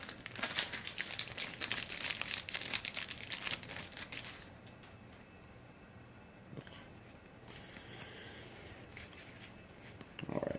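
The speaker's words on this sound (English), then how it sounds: "Let's rip it up." A card booster pack wrapper from a Nightmare Before Christmas expansion is torn up, giving loud crinkling and ripping for about four seconds, then quieter handling rustles and a final crinkle.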